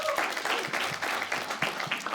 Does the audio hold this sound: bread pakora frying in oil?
no